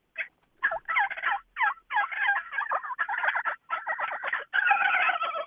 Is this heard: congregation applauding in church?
no